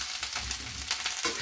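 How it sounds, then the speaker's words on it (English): Cauliflower frying in hot oil for a mustard gobi sabzi, a steady close sizzle and crackle with a few sharper spits and stirring bumps, no voices. "First, you fry the cauliflower in hot oil."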